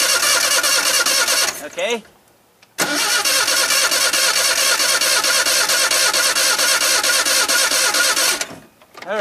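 A gasifier-fueled truck engine runs loud and steady, briefly cuts out and restarts, then is shut down near the end, with the engine noise dropping away into quiet; a voice speaks briefly.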